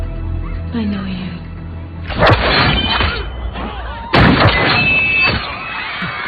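Two sharp, loud gunshot-like blasts about two seconds apart, each with a short rumbling tail, amid tense background sound and a voice.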